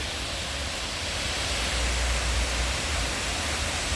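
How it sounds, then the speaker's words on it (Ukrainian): A man-made waterfall in Manavgat, Turkey, roars as a constant, dense rush of falling water. The sound is broad and even, without pauses, and no voices are heard. "Підійшли ще до такого рукотворного водоспаду, який знаходиться в Манавгаті."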